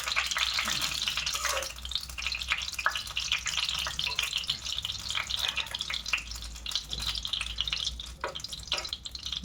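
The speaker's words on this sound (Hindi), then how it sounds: "इसको हम इधर डाल देंगे। घी को थोड़ा मेल्ट होना देना पड़ेगा।" Ghee melting and heating in a pan gives off a steady, close crackling sizzle with fine spitting pops throughout, with no talk over it.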